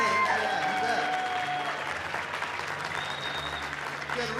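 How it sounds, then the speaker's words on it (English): Sustained applause from a graduation ceremony audience in Los Angeles, steady dense clapping filling the whole stretch at even loudness, with faint voices mixed in underneath. "let's give a warm round of applause for these folks right here in the end"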